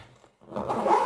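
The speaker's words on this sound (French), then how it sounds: "Maintenant, c'est le test de la fermeture de la caisse." A zipper is drawn closed on a sewn fabric case, giving a short rasping pull that builds after a brief pause, close and fairly loud.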